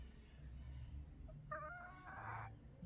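A rooster among hens crows once at a distance, a short harmonic call over quiet low background rumble.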